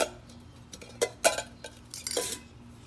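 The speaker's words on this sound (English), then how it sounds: "something I keep as a cook kit" A metal camping cook kit with a one-liter pot and small stove is handled up close, producing scattered clinks, clanks and scrapes of nesting metal pieces knocking together, with quiet pauses between bursts.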